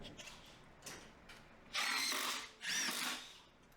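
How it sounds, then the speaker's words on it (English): A battery-powered impact driver sinks deck screws in two loud, close bursts of rapid hammering whir, each about a second long, after a few quieter taps and clicks. "We're gonna try to drive a few deck screws, see how quickly they drive in."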